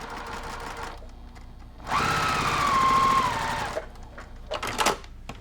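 A home sewing machine stitches fabric in one steady, loud burst lasting about two seconds, with quieter handling noises of the cloth before and after.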